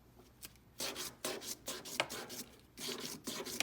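Sandpaper of 400 grit rubbing against a metal ring during jewelry sizing repair, a close, steady series of raspy back-and-forth strokes with brief pauses between bursts.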